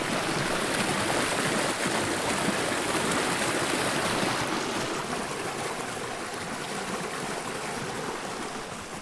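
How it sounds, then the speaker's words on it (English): Creek rapids rush loudly and without a break at Red Rock Crossing in Sedona, a close, dense roar of churning water that eases slightly toward the end, with no voices. "This is the more extreme rapids"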